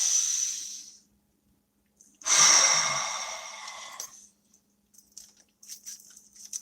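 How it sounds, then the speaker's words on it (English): Two slow, deep breaths, a long exhale and then a stronger inhale-exhale, close and alone in an otherwise quiet room, with faint shuffling afterwards. "Breathe."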